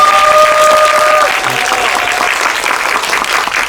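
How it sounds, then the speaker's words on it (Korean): An audience at a Korean film screening Q&A gives a loud, close round of applause, dense clapping that eases slightly in level after the first second and then carries on steadily. "마지막으로 한 번만 더 박수 부탁드리면 그만할까요?"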